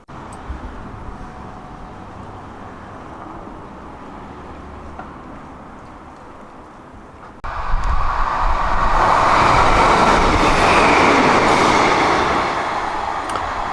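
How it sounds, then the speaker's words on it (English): Steady rail rumble that swells abruptly into a loud, broad roar as a train speeds non-stop through a station close by, then holds at a high level. "Of the 6 trains which pass every hour, 4 will speed through non-stop."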